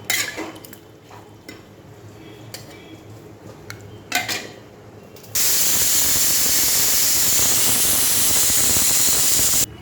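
Hot water poured into a hot cooking pan sets off a loud, steady sizzling hiss of steam that starts abruptly partway through and holds to the end, after some quieter clinking of utensils and pans.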